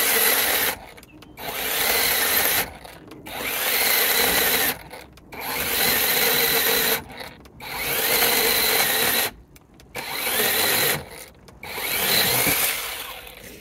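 OLMOLMO 8-inch cordless mini chainsaw cutting through a roughly 4-inch hardwood branch: six loud, high-pitched buzzing bursts close up, each about a second or two long, separated by brief pauses.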